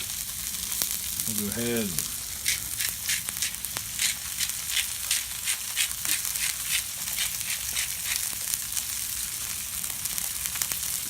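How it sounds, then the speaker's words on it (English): Burger patties sear on a hot griddle with a constant loud sizzle and crackle. Someone speaks briefly near the start over the frying. "We'll get this nice griddle out and get these things nice and seared up"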